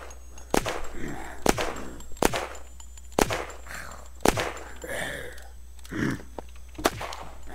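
Automatic machine-gun-style weapon in the zombie video game Unturned fires a series of sharp, separate shots at irregular intervals, roughly once a second, with quieter game sounds and faint voices between them.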